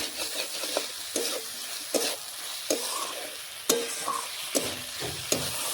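Flat beans coated in mustard-poppy paste are stirred and sautéed in a pan, with a soft steady sizzle broken by sharp clacks of a spoon against the pan, close up and without speech.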